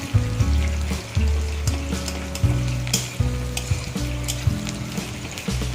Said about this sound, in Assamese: পিঁয়াজখিনি আমি এনেদৰে ফ্ৰাই কৰি লৈছোঁ